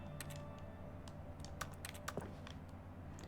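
Keyboard keys clack in quick irregular bursts in The Stanley Parable Ultra Deluxe, crisp close-up clicks over a low steady background hum.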